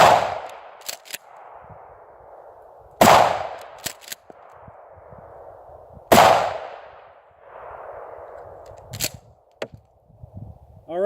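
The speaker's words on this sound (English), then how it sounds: "So once again, 12 gauge, 1 ounce slugs, Mossberg 88," Three loud 12 gauge shotgun blasts from a Mossberg Maverick 88 with an 18-inch barrel firing 1 ounce slugs, spaced about three seconds apart, each with a sharp crack and a fading echo, a few faint clicks of the pump action between shots.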